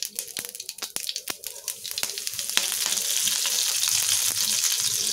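Mustard seeds splutter in hot oil as a quick run of sharp, close pops that thickens into a loud, continuous crackling sizzle for the last couple of seconds; no speech.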